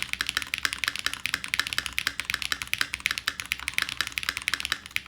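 Continuous fast typing on the alpha keys of an Evolv keyboard fitted with Zaku switches and a carbon fiber plate, close and clear, a steady stream of sharp clacky keystrokes with no voices.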